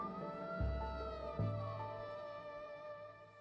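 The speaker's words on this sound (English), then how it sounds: "Despite the sound of the blaring siren" A siren wails with a steady tonal pitch, fairly faint and distant, while two low thuds land beneath it early on.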